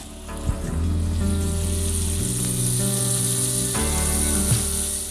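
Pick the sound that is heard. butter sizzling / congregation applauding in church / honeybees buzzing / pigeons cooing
butter sizzling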